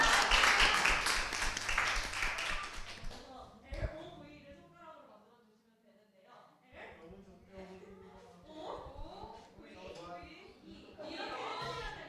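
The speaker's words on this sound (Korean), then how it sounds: "박수 박수." Applause and clapping from a church high-school youth group during a Sunday service, a broad, dense clatter for the first few seconds before it fades and people go on talking.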